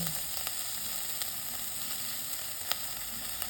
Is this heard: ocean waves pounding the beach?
no